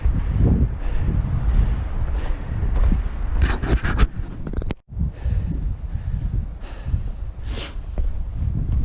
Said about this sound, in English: You can see it's gotten a little windy up here.